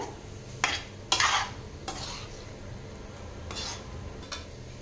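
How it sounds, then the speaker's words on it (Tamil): A few scraping stirs of a spoon in a pan of drumstick masala pepper curry, spaced irregularly over a quiet background with faint cooking noise. "சேர்த்துட்டு நல்லா கலந்துக்கலாங்க."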